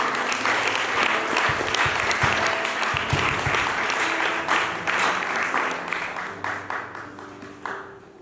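A church congregation at a French-language service applauds loudly and continuously. The clapping is dense and slowly fades toward the end, with a few voices calling out under it.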